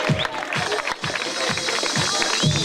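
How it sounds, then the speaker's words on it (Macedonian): A crowd at a 2006 beauty pageant crowning in Glogji claps steadily for a few seconds, close and dense, with a faint voice underneath. "Ајде уште еден голем аплауз за нашата нова Полошка Бавица 2006 година."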